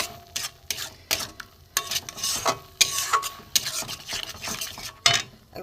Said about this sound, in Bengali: রসুন, কালো জিরে, শুকনো লঙ্কা ভাজা, আমি এটা একটু ভেজে ভেজে একদম শুকনো করে নেব।